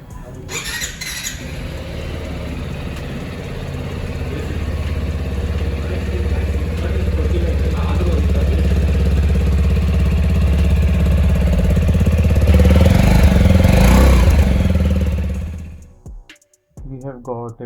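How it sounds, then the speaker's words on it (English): A TVS Apache RTX 300 motorcycle idles with a soft, low exhaust note fitted with catalytic converters, a steady low rumble that swells slightly before cutting off near the end. "It is very soft sounding exhaust."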